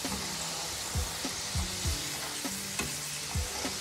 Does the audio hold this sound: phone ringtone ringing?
no